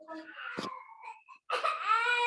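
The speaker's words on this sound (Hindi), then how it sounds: "ये तो बच्चा रो रहा है" A young child cries in two short bursts, whimpering first and then rising into a louder wail, fairly close and faint over an online class call.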